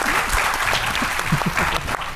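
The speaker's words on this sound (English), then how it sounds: "So I want you guys first to give them a round of applause," A symposium audience on financial inclusion breaks into loud, steady applause, many hands clapping together in a brief continuous burst.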